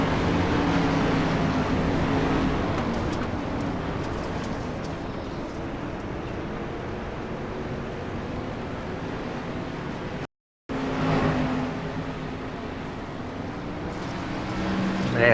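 Race car lapping a dirt speedway, a continuous engine drone rising and falling as it circles, with wind noise and a brief cut partway through.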